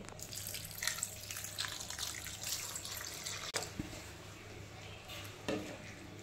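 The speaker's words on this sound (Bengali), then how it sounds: "আলু 3টেকে গ্রেট করে নেওয়ার পর 3-4 বার জল বদলে বদলে খুব ভালো করে ধুয়ে নিতে হবে।" Grated potatoes swished and rinsed in water in a bowl, a steady wet splashing and sloshing that runs throughout, with a couple of sharper knocks against the vessel. The sound is close and there is no talk.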